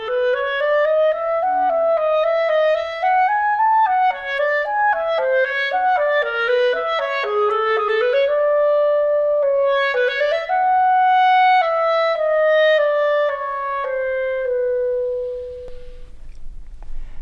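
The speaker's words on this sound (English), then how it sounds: "The clarinet is known for its warm, rich tone color" A solo clarinet plays a flowing melodic phrase with a warm, clear tone, its notes moving up and down before settling on a long held note that fades out.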